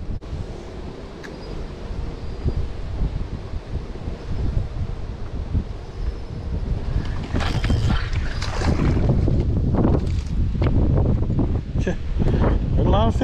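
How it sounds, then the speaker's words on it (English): Strong wind gusting across a bass fishing spot near water, buffeting the microphone loudly and steadily throughout, growing rougher in the second half with rustling bursts; someone talks briefly over it. "The wind's going really hard today."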